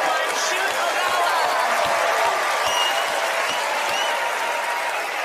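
A TV studio audience at a magic competition applauds magician Shoot Ogawa, a dense, steady wash of clapping sustained at full loudness throughout, with some crowd voices mixed in.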